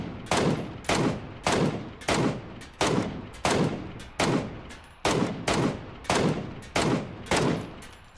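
Steady, evenly spaced single gunshots in PUBG, a battle royale shooter, about one loud crack every half second or so across the whole stretch, each with a short decaying tail, no voices.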